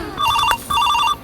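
A telephone rings in two short electronic bursts, loud and close, separated by a brief pause, with no talking over it.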